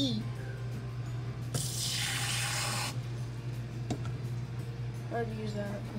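Water runs from a tap into a container for hot chocolate, a steady hiss of flow that rises for about a second and a half and then stops, with sink and kitchen noise around it.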